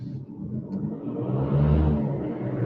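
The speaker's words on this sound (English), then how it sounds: "he's got the loudest muffler, and he's got to crank it up and wake everybody up as he goes down the road" A car with a loud muffler revving as it drives down the road in the early morning, engine rumble swelling and growing louder toward the end, heard alone without talk.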